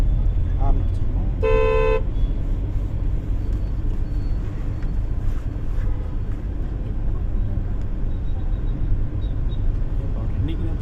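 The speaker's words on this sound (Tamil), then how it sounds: "ஹார்ன் அடிச்சிடணும்." A car horn gives one short honk during an on-road driving lesson in a car, heard near against steady engine and traffic rumble, with people talking inside the car.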